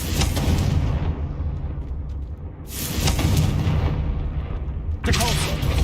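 Confringo fire spell blasts in Hogwarts Legacy land as three loud, booming bursts spaced a few seconds apart, each with a rumbling tail and background game noise between them.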